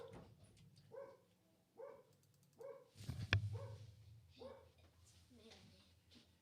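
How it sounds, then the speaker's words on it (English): A pet dog barks in several short, sharp bursts close by at home, with someone speaking over and between the barks. "As my dog goes off."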